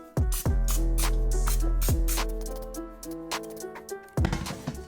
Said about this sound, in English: spray them with my Pam